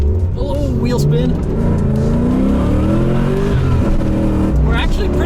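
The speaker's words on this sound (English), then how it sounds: "3, 2, 1, go! Oh, wheel spin." A vintage Chevrolet Corvette ZR1 launches hard in a drag race with wheel spin, its engine roaring loudly and steadily beside a second car while an excited voice speaks over the noise.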